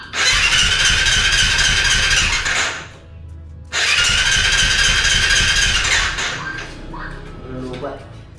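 Electric starter cranking a motorcycle engine in a home setting, a loud steady whirring that cuts briefly, then cranks again before the engine catches; faint voices may sit beneath it.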